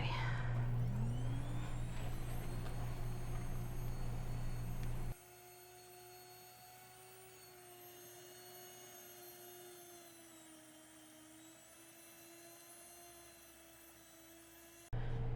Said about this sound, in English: today I'm using my Nutrimill Classic Grain Mill